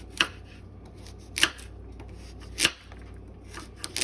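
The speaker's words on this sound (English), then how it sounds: "gonna go ahead and chop up all of our veggies" Vegetables for a vegan tofu noodle soup chopped with a knife on a cutting board: a few sharp, spaced chops close by, with no talking.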